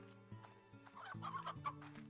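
Chickens in the video game Slime Rancher cluck in soft, repeated bursts over a quiet game music drone.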